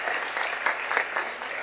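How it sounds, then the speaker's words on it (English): An audience at a high school senior achievement awards ceremony claps for a graduating senior, a short, fairly quiet burst of scattered hand claps in a room. "So let's give him another round of applause."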